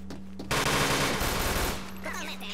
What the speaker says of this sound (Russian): слышишь, кто стрелял, Фил?